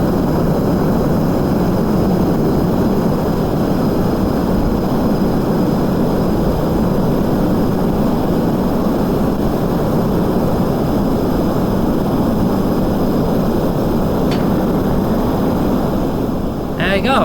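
A plane's engine runs steadily in the video game Kerbal Space Program, a loud, continuous roar with no breaks that holds for the full seventeen seconds.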